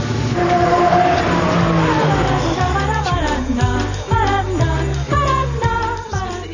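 A Lotus Elise engine on a race track, loud and close, revving through repeated rising pitch sweeps as it climbs through gears with brief drops between shifts, no talking.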